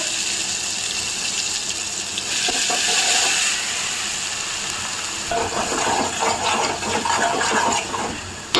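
Cumin and mutton masala roast in a pan, giving a steady, close sizzling hiss with occasional scraping bursts that grow busier in the second half. No one talks over it.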